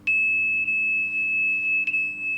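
A steady continuity beep from the phone paired with a Pokit keyring multimeter, one loud tone that holds for more than two seconds with only small wavers.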